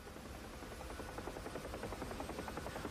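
A helicopter in a flight simulator game drones steadily through a vertical autorotation, its rotor and engine giving a continuous, faint, slightly pulsing hum with no voices.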